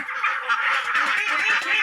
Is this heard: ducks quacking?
yes